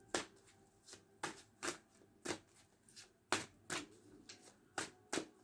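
Playing cards shuffled and drawn from a deck in a tarot-style reading, sharp papery riffles and snaps repeating roughly every half second, close and clear with no talk.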